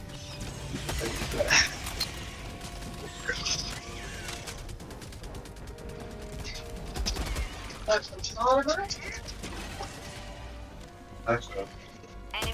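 Gunfire and battle noise in the Helldivers 2 shooter, scattered bursts of shots and mechanical clatter at moderate loudness beneath frequent excited chatter between players.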